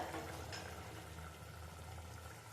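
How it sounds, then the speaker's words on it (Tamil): Fish head curry (kuzhambu) simmers in a pot with a soft, continuous bubbling and popping, faint and close, with no voices over it. "கொதிச்சு வருது."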